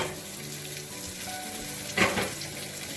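Food sautés in a pan over steady, moderately loud frying sizzle, with a brief louder burst of sizzling partway through as more ingredients hit the hot surface, and no talking.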